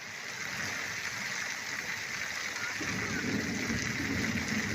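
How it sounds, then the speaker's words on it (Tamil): Heavy rain pours steadily for over an hour during a thunderstorm, a dense, continuous hiss of downpour with a deeper rumble of thunder swelling in partway through, no voices. "இடி மின்னலுடன் சுமார் 1 மணி நேரத்திற்கு மேலாக கனமழை கொட்டி தீர்த்தது"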